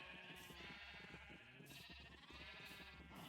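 Sheep bleat repeatedly while being bred in a Minecraft-style mining and farming game, several overlapping calls close by and fairly loud, with no talking.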